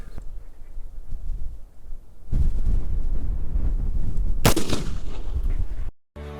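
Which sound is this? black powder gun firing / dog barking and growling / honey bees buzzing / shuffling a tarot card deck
black powder gun firing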